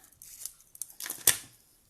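A few short, crisp snips of scissors cutting through craft paper for handmade tags, quiet and close, spaced irregularly with one sharper cut near the end.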